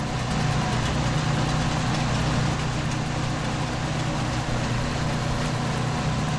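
Hind 999 combine harvester engine in Farming Simulator 19, cutting wheat: a steady, loud, droning engine hum runs unbroken from start to finish, with no talk over it.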